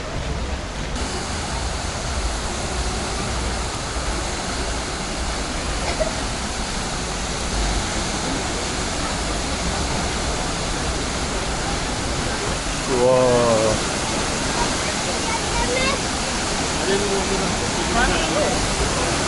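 Waterfall in Ubud, Bali, giving a loud, steady broadband roar that fills the whole stretch, with brief voices and splashes rising over it near the middle.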